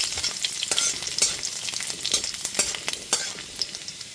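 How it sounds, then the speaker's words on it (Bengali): Small pieces of chopped garlic fry in oil in a pan over a low-to-medium gas flame, crackling and sizzling steadily up close, with a few scraping stirs and no talking. "এবার গ্যাসের ফ্লেমটা লো টু মিডিয়ামে রেখে রসুনটা একটুখানি ভেজে নেব"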